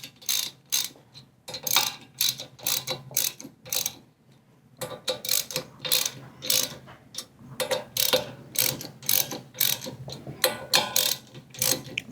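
A ratchet tool tightening the clamp on seat risers of a Rascal GT Cruiser, a rapid series of close, sharp clicking bursts in back-and-forth strokes, with a brief pause partway through.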